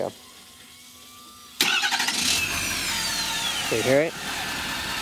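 A 2015 Ford F-350 Super Duty King Ranch with the 6.7L diesel cranks and fires abruptly after a quiet start, then settles into a steady, close idle while a person speaks over it.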